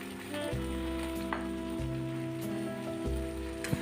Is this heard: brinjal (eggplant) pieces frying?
yes